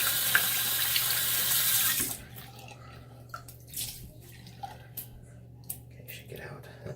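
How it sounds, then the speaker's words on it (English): Running tap water splashes loudly over hands being rinsed in a sink, then cuts off after about two seconds, leaving quiet drips, soft handling sounds and faint whispery noise. "I'm gonna rinse my hands off"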